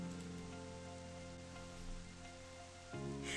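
Quiet, steady rain ambience in the video game Tailor Tales, a soft even patter with a faint low background tone that shifts slightly near the end, heard alone without voices.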